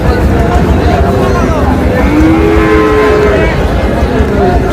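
Sahiwal bull calves at a busy weekly cattle market give drawn-out moos over a dense babble of crowd voices and general market noise.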